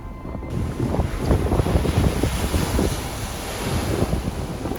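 Large waves surge and wash against a rocky seaside in Palermo, Sicily, on a cold day, with strong wind buffeting the microphone; a loud, steady rushing roar continues throughout with no talking.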